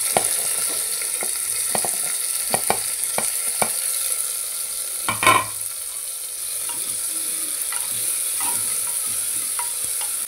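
Tomatoes sautéing in hot oil inside a pressure cooker, a steady loud sizzle with sharp clicks of a spoon stirring and scraping, one louder clatter midway, no voices.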